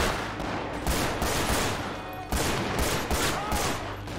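Gunfire in GTA 5 on the streets of Los Santos: dense, close volleys of rapid shots crackle in repeated bursts with no pause across the whole stretch.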